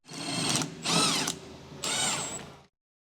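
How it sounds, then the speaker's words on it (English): An electric impact wrench with a 14mm deep socket loosens the bolt joining the shock absorber to the lower control arm on a Honda Civic 1.6L, three loud close whirring, hammering bursts separated by short pauses, then silence. "Use the 14mm deep socket with the electric impact wrench to remove the bolt connecting the shock absorber and the lower control arm."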